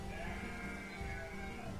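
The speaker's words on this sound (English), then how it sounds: "These are some really smart sheep if they know where they've got to go." Sheep bleating in the medieval town-building game Banished, a steady layered tone running the whole moment over a low ambient bed, moderately loud with no talk over it.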